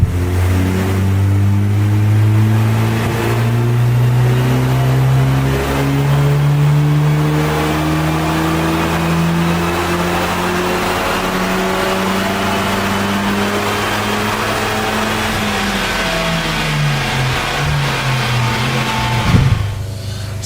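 A tuned Mk8 VW Golf GTI turbocharged engine runs on a dyno, roaring loud and close as its pitch climbs steadily through the gears for about twenty seconds, with a brief dip near the end.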